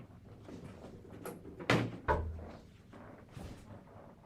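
A pair of sharp knocks on a door indoors, two quick raps about half a second apart, fairly close over a quiet room background.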